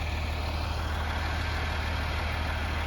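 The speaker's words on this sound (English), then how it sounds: "Having to use the boom truck to get the bundles up there because they're pretty heavy." A boom truck's diesel engine runs steadily at a steel-frame barndominium build in North Carolina while lifting heavy steel bundles, giving a continuous low rumble with a broad mechanical hiss, close and unbroken, with no talk.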